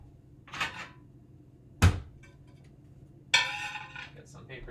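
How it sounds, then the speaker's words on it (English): A plate is taken out in a kitchen while tofu is being prepared, giving three short, sharp clinks and clatters of dishes, spaced apart, with quiet moments between them. "let's get a plate"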